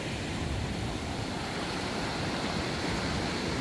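Calm, gentle sea waves wash onto the beach at Hòn Rơm, Mũi Né, as a steady, unbroken hiss of surf that stays at an even level throughout with no voices.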